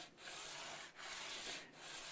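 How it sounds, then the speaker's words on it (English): A guitar nut is sanded with coarse 80 grit sandpaper on a Harley Benton DC Junior, three close rhythmic rasping strokes with brief pauses between them. "I'm just going to take a bit more off with the 80 grit"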